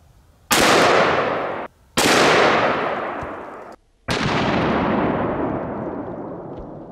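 Three loud, sharp shots from a Taurus Raging Bull .454 Casull revolver firing at a steel Olympic weight plate outdoors, each blast trailing off in a long rolling echo.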